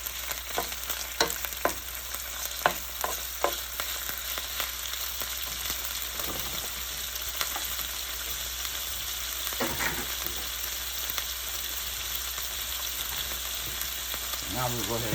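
Shrimp and chicken sizzle loudly in a hot pan, a steady frying hiss broken by repeated clacks and scrapes of stirring, close and with no voices.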